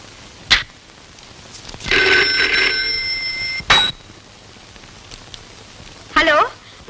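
A phone rings in a Telugu comedy film scene with a tonal, bell-like electronic ring lasting under two seconds, framed by short sharp clicks and brief voice-like bursts before and after.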